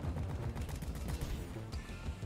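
Gunfire from the Deep Rock Galactic video game as a player shoots at gold, a dense continuous rattle of rapid shots with explosive bursts, loud and sustained throughout.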